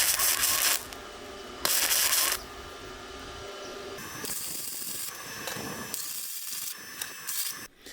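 A 250A inverter MIG welder fills the gap between two metal tubes with bursts of loud, crackling hiss that start and stop several times, separated by quieter stretches.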